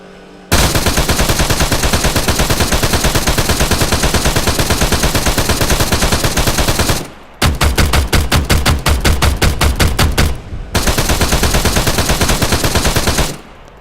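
Loud, sustained automatic gunfire from Arma 3 in the Eden Editor, rattling almost continuously for several seconds, pausing briefly, then resuming in rapid bursts of distinct shots.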